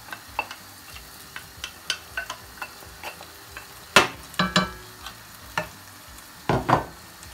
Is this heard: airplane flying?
no